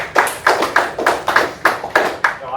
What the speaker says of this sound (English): Y'all give him a hand clap here.